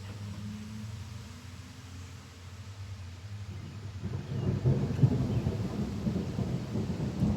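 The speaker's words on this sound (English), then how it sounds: "I just like recording the rain and stuff." Thunder rumbles low and builds during a June thunderstorm, rising in loudness midway as rain patters more heavily on surfaces, with no voices heard.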